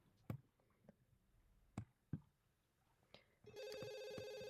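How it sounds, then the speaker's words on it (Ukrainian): A telephone rings in The Sims 2, a repeating electronic ring that begins partway through and sustains loudly to the end, following a few scattered clicks and game interface sounds. "Хто там нам дзвонить?"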